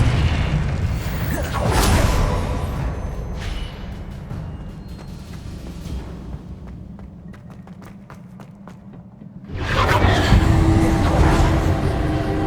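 Explosive Confringo spell blasts from Hogwarts Legacy, a few heavy booms with rumbling tails and scattered crackling debris between them, the last blast loud and close.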